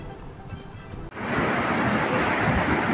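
Floodwaters of the swollen Kunu river after heavy rain surge near a bridge and its new pillars, a loud broadband rush of churning water and waves that jumps up after a brief quieter, wind-buffeted opening and then stays steady.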